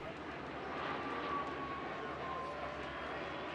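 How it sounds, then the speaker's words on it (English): An ATR 72-600 turboprop airliner flies a spirited display at the La Ferté-Alais air show, giving a steady loud broadband engine roar with a faint shifting whine throughout. "a chance to see an airliner of a more modern variety in the form of the ATR 72-600, which performed a very spirited display indeed."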